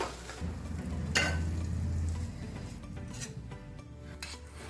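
Soft scraping and clinking of a spoon in a pan as cooked dudhi halwa, a bottle gourd sweet made with milk and ghee, is scooped into a dish, quiet and close with a low steady hum underneath.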